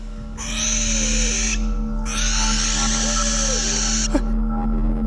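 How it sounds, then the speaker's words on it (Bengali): Three or four owls screech in an eerie drama sound effect: harsh, drawn-out cries in two long bursts over a steady low night drone, with no talking. "তারপরে কোথা থেকে চেঁচাতে লাগলো 3-4টে পেঁচা।"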